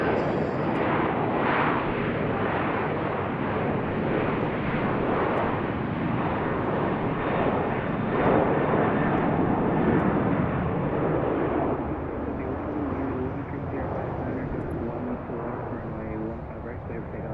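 A jet airliner taking off at BWI airport, a loud, broad, steady roar close by that lasts throughout and fades slightly near the end, with a person talking over it.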